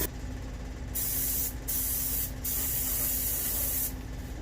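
Spray paint being applied in a coat over an artificial skull for a European horn mount, a continuous close hiss with a few brief pauses between bursts.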